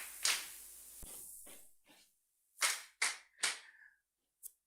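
Scattered, sharp hand claps in an echoing room at an accounting program info session: a few separate loud smacks with short pauses between them, followed by a last faint clap.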